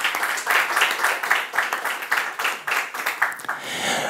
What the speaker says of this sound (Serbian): Jedan aplauz i za njih